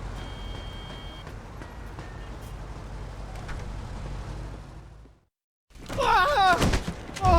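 Car door thunk as a character exits a car in the video game Mafia 2, following steady in-game engine and road rumble that cuts to brief silence, then voices talking loudly.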